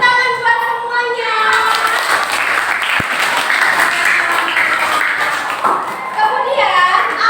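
Classroom applause for everyone, a loud steady burst of clapping from children and teacher that lasts throughout, with a sharp tap partway through.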